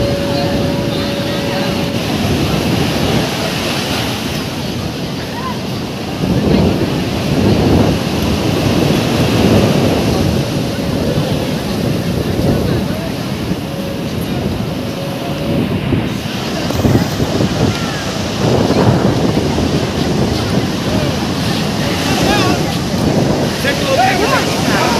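Surf breaking at Puri beach as fishing boats return through the waves, a steady roar of wind and water with swells rising and falling, people talking nearby.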